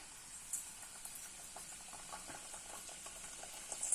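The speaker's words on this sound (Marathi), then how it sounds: "आता इथं आपलं तेल तापलेलं आहे तर आता आपण यात सोडूयात." Chirote, layered semolina pastries, sizzle and bubble in hot oil with a soft, continuous frying hiss and scattered crackles, faint and close, with no talk.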